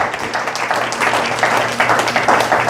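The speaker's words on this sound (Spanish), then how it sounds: "Dele un aplauso al Rey." Church congregation applauding during a sermon, a dense, steady clatter of many hands that swells and surges in waves over a couple of seconds, fairly loud and close.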